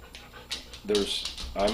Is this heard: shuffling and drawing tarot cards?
no